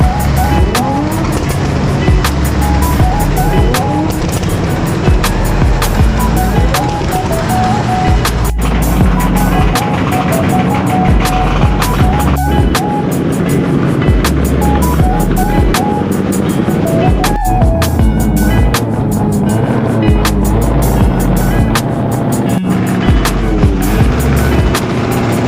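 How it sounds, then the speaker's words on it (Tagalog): Loud, continuous engine and exhaust roar from modified cars and motorcycles at a motor and car show in San Jose, with sharp pops cutting through at intervals, dense and close throughout. "Napakatagal din ng mga putukan at mga mahihingi na tambutso dito."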